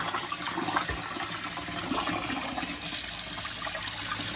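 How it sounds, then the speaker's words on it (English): Rice is rinsed in a bowl of water, stirred and squished by hand, giving a continuous close sloshing and swishing of water with no voices. "Put in the water, stir, squish with one hand."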